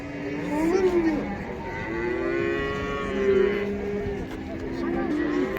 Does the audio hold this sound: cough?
no